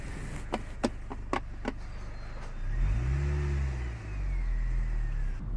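A supercharged R53 Mini Cooper S accelerates on a drive through a residential area, its engine rising and falling in pitch over a few seconds after some sharp clicks and knocks inside the car, with no talk.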